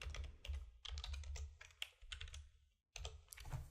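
Quick bursts of keystrokes on a computer keyboard, close and crisp, typing out a single word in short clustered runs with a brief pause before a final flurry.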